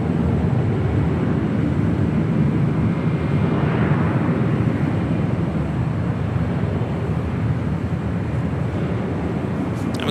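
A jet airliner at Los Angeles International Airport, heard as a loud, continuous broadband roar of engines that stays steady throughout with no gaps and no voices.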